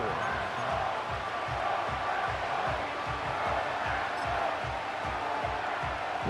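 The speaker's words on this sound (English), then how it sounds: "This crowd doing all they can." Stadium crowd noise in the Madden 25 football video game, Packers versus Commanders, a continuous roar of cheering fans under game commentary.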